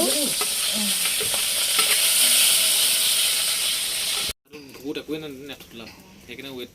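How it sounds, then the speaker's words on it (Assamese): Steady loud sizzling of small fish frying in a pan fills the first four seconds, then cuts off; afterward a voice speaks over quieter kitchen noise. "এতিয়া সৰু মাছটোকে ভাজি"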